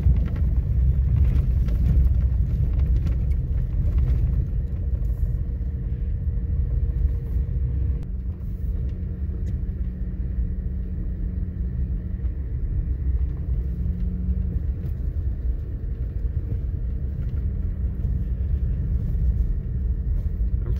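Steady low engine and road rumble inside a car driving through a snowy canyon, a continuous drone with no talk over it.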